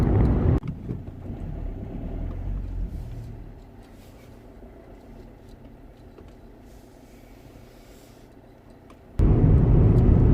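A BMW M5 driving home on the road, a steady, moderate engine and road rumble heard from inside the cabin, quieter in the middle stretch and louder at the start and end, with no talking.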